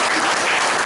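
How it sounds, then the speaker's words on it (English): A club meeting audience bursts into dense, steady applause, many hands clapping together at full volume through the whole short stretch with no talk over it. "I would give first of all a round of applause for Mr. Abhay Kotari"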